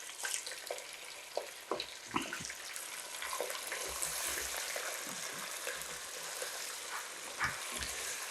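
Chicken pieces, about a kilo, fry in hot oil with fried onions for a Lahori-style gravy, giving a steady close sizzle with scattered crackles and stirring clatters.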